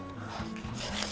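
Short close rasping strokes of a file smoothing guitar fret ends, a few quick scraping passes in about a second with no voices.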